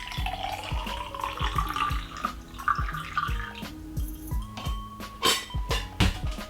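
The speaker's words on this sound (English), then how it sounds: "There is still developer in here. That will be just poured off aside." Used darkroom developer is poured off into a container, giving a gurgling, splashing stream with ringing clinks and drips and rising pitch as the vessel fills.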